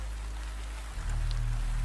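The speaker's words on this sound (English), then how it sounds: "The rain in the walls is barely a sound now." Steady rain falls on an old bookshop at night, a dense, even hiss holding throughout with a low rumble beneath that swells near the end.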